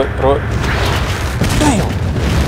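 A grenade explodes in a first-person shooter video game, a deep booming rumble heard under excited voices talking over it.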